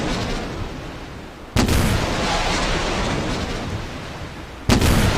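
Anti-ship missiles launch in the DCS World combat flight simulator during a naval friendly-fire reenactment: two loud, abrupt blasts that each swell into a sustained roaring rush, with no voices over them.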